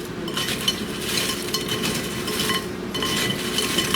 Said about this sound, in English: let's go ahead, mix these all up